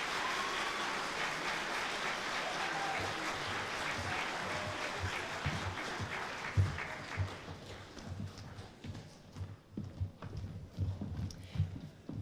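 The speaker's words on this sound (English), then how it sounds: "How about another round of applause for them?" A school choir audience, the Berkeley High School Encore Choir crowd at a Military Appreciation Day event, breaks into dense, loud applause that thins out after about six seconds into scattered, uneven claps.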